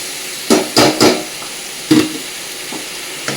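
Soaked, drained Gobindobhog rice stirred through turmeric in a hot pan, a few loud scraping stirs with a soft sizzle, close up and with no talking.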